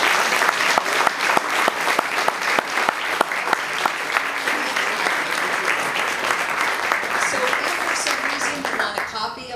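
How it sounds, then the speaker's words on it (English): An audience at a talk on Civil War nurse Lucy Higgs Nichols breaks into sustained applause, many hands clapping densely and close for several seconds before it fades at the end. "Round of applause."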